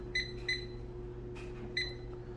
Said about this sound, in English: I'm just going to put the timer for 15 minutes